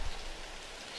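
Heavy rain pours down in a dense, steady hiss of countless drops, heard alone at a moderate, even level.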